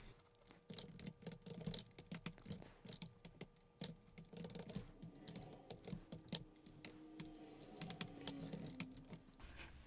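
Steady typing on a computer keyboard while writing script code for After Effects: quick, irregular key clicks in short runs, close and fairly quiet, with no one speaking.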